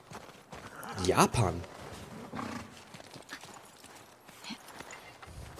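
Horse hooves clip-clopping in The Last of Us Part II, a quick burst of hoofbeats with a faint whinny up front, then softer scattered steps under a speaking voice.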